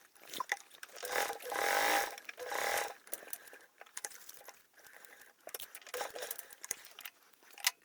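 A sewing machine top stitching a flap bag whirs in short bursts of varying length, close and fairly quiet, with pauses between runs.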